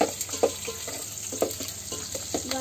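Onion and garlic frying in hot oil in a pan over a village wood-fired chulha: close, crackling sizzle with irregular pops and stirring scrapes throughout, no talking.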